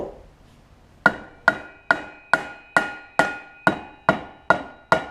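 A rubber hammer lightly taps the drive pulley of a Snapper rear-engine rider mower with a Briggs Intek engine: ten crisp, evenly spaced knocks after a quiet second, each ringing briefly before the next, close and clear with no talking.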